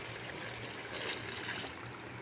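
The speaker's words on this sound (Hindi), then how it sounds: "इसमें मैं थोड़ा सा पानी ऐड करूँगी।" Water poured into a pot of aloo gosht (potato and meat curry) on the stove, a steady soft pouring wash that swells briefly near the middle, close and alone.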